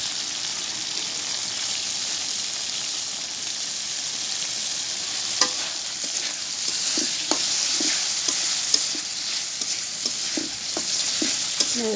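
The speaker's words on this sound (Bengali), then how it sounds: "মশলা কষানো হয়ে গেছে, তেল উপরে উঠতেছে, দিয়ে দেবো এই পর্যায়ে টমেটোটাকে" Spice paste fries in oil in a pan with a steady, close sizzle, while a spoon or spatula stirs and scrapes in short irregular knocks through the second half; tomato is about to be added, and no one speaks.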